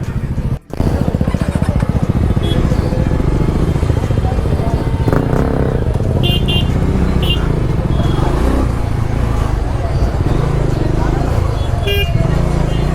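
Heavy road traffic of motorcycles and cars roars in a continuous loud wash, with a few short horn toots scattered through while people talk over the din.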